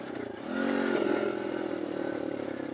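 A Tao Tao DBX1 dirt bike rides along steadily, its small engine droning close and continuous with a slight change in pitch as it shifts up into third gear.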